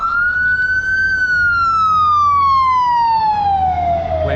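Emergency vehicle siren on a steep San Francisco street, loud and close, one long wailing tone that rises briefly and then slides steadily downward, with traffic rumble underneath and no talking.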